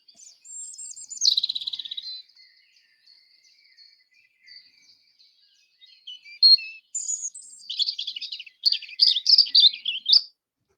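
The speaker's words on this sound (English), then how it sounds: "you're going to know at some point that this is a robin" American robin song outdoors: clear, high whistled phrases delivered in separated bursts with pauses between, moderately close, with another bird faintly calling in the background and no talking.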